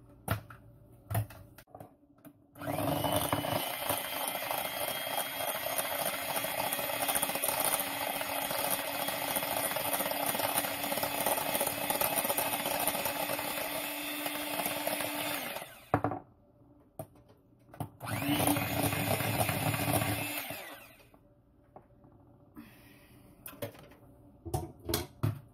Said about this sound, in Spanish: o si no, lo haces en la licuadora